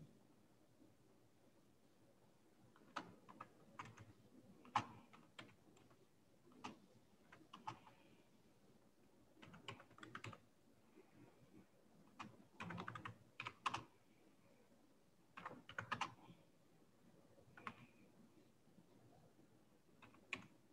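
Keys clatter on a computer keyboard as text is typed, in irregular bursts of quick clicks separated by short pauses, close and fairly quiet against a low steady room hum.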